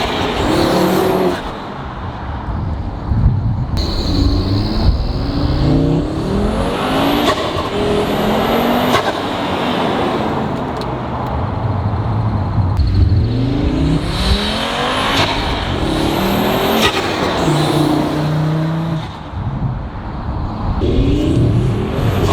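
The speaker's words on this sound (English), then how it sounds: "I want to show you guys what it sounds like doing a flyby" Audi RS3 fitted with a huge 5-inch air intake roars past in a loud flyby, the engine rising as it approaches, then a second surge and pass follow with sweeping pitch changes and no talk.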